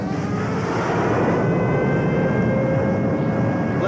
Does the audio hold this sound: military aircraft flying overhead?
yes